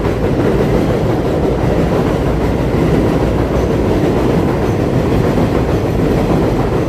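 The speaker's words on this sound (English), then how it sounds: "Elevated trains." Elevated train passing overhead in Queens, New York City, a loud continuous rumbling roar with rattling wheels that fills the whole stretch without letup; no voices.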